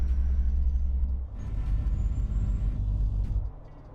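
Heavy truck engine from American Truck Simulator rumbling low and steady, dropping in level briefly near the start and again toward the end, with a faint high whine above and no voices.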